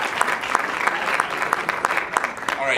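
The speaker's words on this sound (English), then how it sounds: "So give him a round of applause." An improv comedy show audience applauds in a theatre, a dense steady wash of many hands clapping throughout, loud and close.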